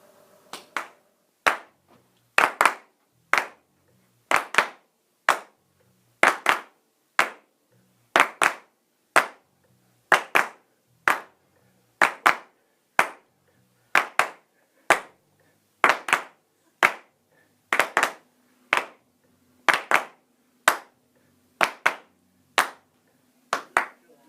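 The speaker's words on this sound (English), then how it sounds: "you want it to come from like a good old-fashioned clap like that" Hand claps played as percussion for a song recording, a steady run of about thirty sharp, loud claps in a regular beat, close and alone with no talk.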